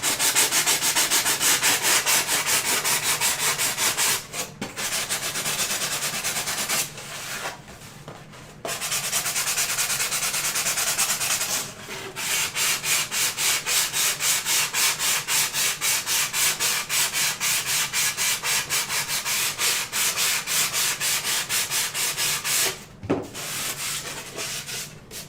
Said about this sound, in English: that is how quick and easy you can sand those out